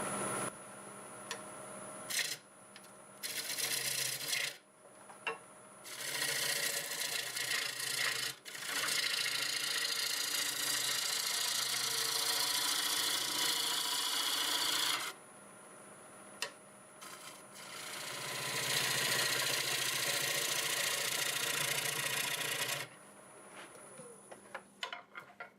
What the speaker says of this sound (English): Switch to a 1/2 inch bowl gouge now.